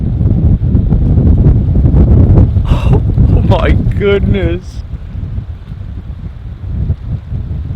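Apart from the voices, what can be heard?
strong wind in thunderstorm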